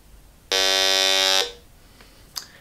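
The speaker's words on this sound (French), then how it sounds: "je trouve ça plus sécuritaire avec un détecteur de métal" A single loud electronic buzz-beep from a metal detector rings out for about one second and then cuts off, followed by a couple of faint clicks in an otherwise quiet background.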